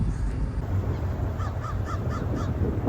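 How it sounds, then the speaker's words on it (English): Crows caw outdoors near the harbor at Hyannis: a run of about five rhythmic caws, moderately distant, over a steady wash of background noise, with no talking. "Love those birds."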